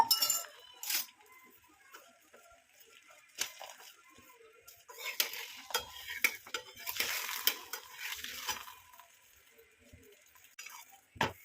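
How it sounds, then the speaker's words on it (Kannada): A methi paratha fries in oil on a tawa griddle. A soft sizzle runs underneath scattered clinks and scrapes from a metal spatula and utensils, with quiet pauses between the bursts of handling. "ಈಗ ತವಿಗೆ ಸ್ವಲ್ಪ ಎಣ್ಣೆ ಹಚ್ಕೊಂಡ್ರಿ ಚೆಂದಂಗೆ ಚಪಾತಿ ಗತೆ ಬೇಯಿಸ್ಕೊಂಡ್ರೆ ಮೆಂತೆ ಪರೋಟ"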